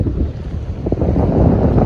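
Rough, churning sea along the coast at Ain Mestir in Tunisia, a loud, continuous low rush of surf mixed with strong wind noise on the microphone.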